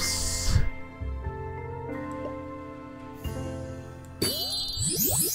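Bright bell chimes and tinkling jingles from the HuniePop puzzle game, several ringing tones layered over steady game music, with a sparkling flourish near the end.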